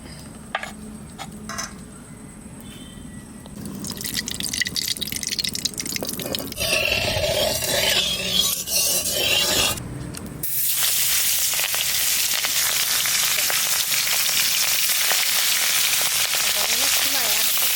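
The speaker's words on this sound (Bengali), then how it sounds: "কড়াই গরম হয়ে গেছে, তেল দিয়ে দেবো।" Hot oil hitting a heated village-style wok before a Sonabogo river fish curry, giving a loud, steady frying sizzle that swells after a few seconds of quieter dripping and clatter, then holds a broad continuous hiss to the end.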